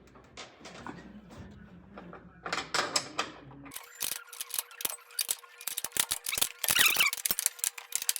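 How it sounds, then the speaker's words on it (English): A 3/4 ratchet wrench clicks in quick, uneven bursts while removing upper control arm bolts during drivetrain work, with close metallic ratcheting and clanks loudest in the second half. "Grab a 3/4. You're gonna take your upper control arm bolts out."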